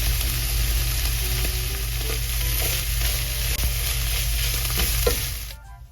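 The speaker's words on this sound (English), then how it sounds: "we need to fry the tuna well with the masala so the tuna absorbs all the flavor" Tuna frying with masala in a pan gives a dense, even sizzle at close range, with a few faint stirring scrapes and a sudden cutoff just before the end; no voices.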